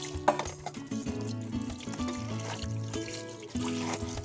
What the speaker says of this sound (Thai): เสร็จแล้วเราก็นำมาล้างน้ำเปล่าประมาณ 2-3 น้ำจนน้ำใสเลยนะครับ